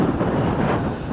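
Strong wind batters the microphone on an open hilltop overlooking a river valley and lakes, a loud, continuous low roar with steady buffeting and no pauses.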